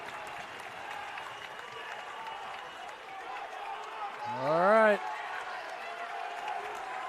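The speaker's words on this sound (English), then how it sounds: "Listen to this crowd." A basketball championship crowd in Grand Gymnasium cheers and applauds continuously, a dense roar of noise with a brief swell, while a voice speaks briefly over it.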